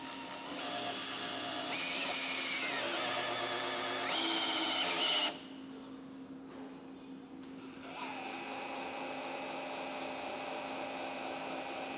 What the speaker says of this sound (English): now we just start the drill and watch this gauge go up